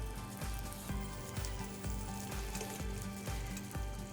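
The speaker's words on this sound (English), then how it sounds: "There it gets to sizzling." Salmon sizzles in a hot pan, a loud dense crackling fry with rhythmic thumping music pulsing underneath throughout, no talk.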